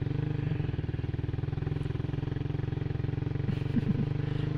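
A small motorcycle engine idles close by, a steady rapid putter with a low throbbing pulse, with faint clatter near the end.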